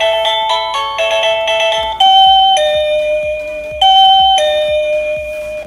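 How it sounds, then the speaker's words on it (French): A loud wireless doorbell chime plays a bright melody of several bell-like tones, then repeats the two-note ding-dong pattern. "puis ça va faire sonner la sonnette."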